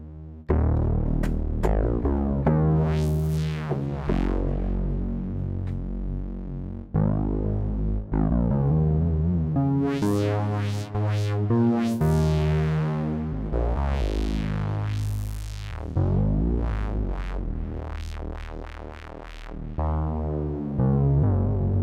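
Synthesizer preset with two oscillators routed through parallel filters, one of them bandpass, playing a sequence of sustained, sweeping tones with bright resonant filter swells and throbbing movement, loud and alone with no talking.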